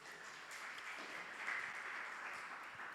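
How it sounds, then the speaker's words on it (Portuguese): Faint, distant applause from a church congregation for a group of boys, a soft, even patter of clapping heard from far off with no voices over it. "Salva de palmas para os meninos."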